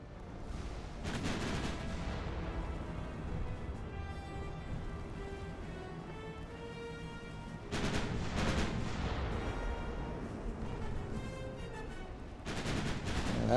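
Heavy 20-inch battleship guns fire in the naval game Ultimate Admiral: Dreadnoughts, with three loud booming blasts spaced a few seconds apart, each followed by a long rumbling roll that fades slowly.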